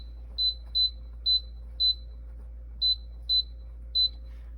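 An electric cooker's control panel beeps as buttons are pressed to select sear mode: seven short, clear electronic beeps at an uneven pace, with a pause in the middle, over a quiet low hum.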